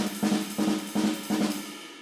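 Double strokes move between the hands on a drum set: four quick bursts of paired hits in a steady rhythm, bright and close, with a washy ring between the bursts.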